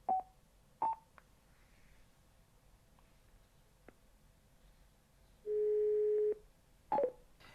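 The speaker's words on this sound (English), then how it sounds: "Another way of making a call is using the redial function. Press the plus button for 2 seconds." A Cardo Freecom 1 motorcycle intercom plays its redial call tones: short electronic beeps, a few isolated clicks, then a longer steady tone and a final cluster of beeps, clear and close against a quiet background.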